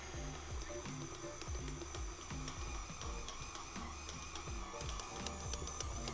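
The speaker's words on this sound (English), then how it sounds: "we're going to place that bowl on the stand mixer using the dough hook attachment and put it on a low speed" A stand mixer with a dough hook runs on low speed kneading flatbread dough, producing a faint, steady mechanical whir with a regular rhythmic thumping pulse as the dough turns in the bowl, heard alone.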